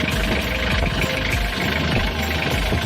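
A 1988 Mitsubishi L300 diesel engine idles close by, a steady loud rumble with rhythmic knocking pulses and vibration, no talking.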